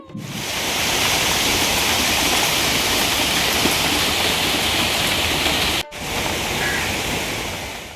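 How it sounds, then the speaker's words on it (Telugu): Heavy rain pours down in a steady, loud, dense roar that runs almost without pause, with one brief break near the end; no voices. "ఈలోపే పెద్ద వర్షం స్టార్ట్ అయిపోయింది"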